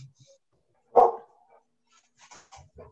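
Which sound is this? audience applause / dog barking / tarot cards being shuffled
dog barking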